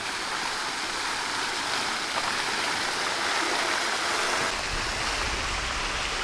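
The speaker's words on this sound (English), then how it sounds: "Nice little stream." A small stream flows steadily in Turin, its broadband rushing wash continuous and fairly close throughout, with no voices over it.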